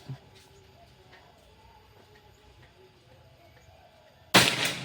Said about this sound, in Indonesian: Oke, ini tembakan keempat.